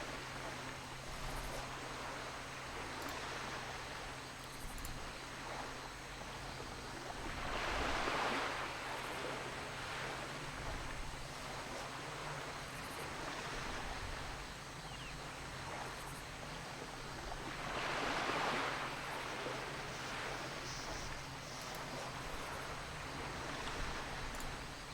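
Ocean waves break along a shoreline in World of Warcraft Classic, a steady soft wash of surf that swells at two points and then falls back, with no voices over it.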